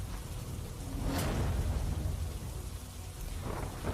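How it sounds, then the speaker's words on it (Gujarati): Heavy monsoon rain pours in a steady roar in Dadra and Nagar Haveli while deep thunder rumbles through, with a brief rushing gust early on. "જ્યાં વરસાદી માહોલ જોવા મળી રહ્યો છે"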